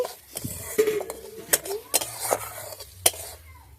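A utensil stirs inside a kadai at an outdoor picnic cookout, giving a series of sharp metallic clanks and scrapes in an irregular rhythm, close and fairly loud.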